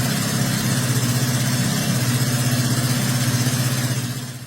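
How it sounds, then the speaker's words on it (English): A 1976 Sorcerer motorcycle engine settles into a steady, loud idle, its low throbbing pulse running continuously without any speech over it. "That sound of the Sorcerer starting was one of the most beautiful mechanical sounds I've ever heard in my life."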